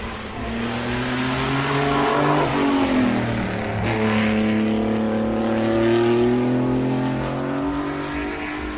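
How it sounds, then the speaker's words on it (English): A classic Maserati 250F front-engined Grand Prix race car roars past, its loud engine note rising and falling with a clear pitch shift as it passes close, then fading while another engine drone lingers. "That was the Maserati 250F, Fangio's car."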